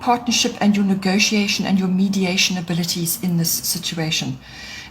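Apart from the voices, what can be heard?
No everyday noises stand out.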